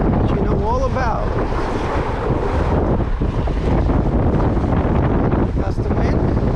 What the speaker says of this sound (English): Gust of wind, feel it there?